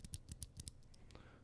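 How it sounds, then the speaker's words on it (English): Clicky blue switches on an E-YOOSO Z-686 65% mechanical keyboard give a quick run of about five sharp, close, faint clicks, then fall quiet. "switching all those crappy blue switches in it that sound like this"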